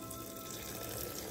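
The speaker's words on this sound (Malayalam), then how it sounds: "ഇതിലേക്ക് ആവശ്യത്തിന് വെള്ളം കൂടെ ഒഴിച്ച്" Water is poured into chickpeas seasoned with garam masala and salt before pressure cooking, a short, close, steady trickling splash heard on its own.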